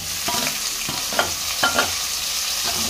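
Tomato is stirred into a sizzling bottle gourd curry base in a pan, with irregular spoon scrapes and clinks over a continuous frying hiss, close up with no speech.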